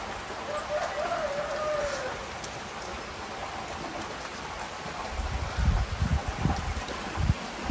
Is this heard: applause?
no